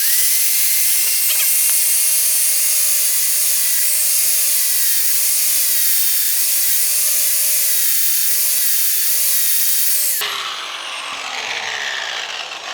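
An abrasive 60-grit wheel grinds metal on a motorcycle during a chain swap, a loud, continuous high whine with a wavering tone for about ten seconds, then the pitch drops sharply as it spins down.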